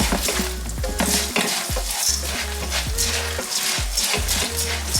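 Shell pasta stirred while browning in a frying pan for sopa de concha with ground beef, giving a loud, steady sizzle broken by repeated scraping strokes, with faint music underneath.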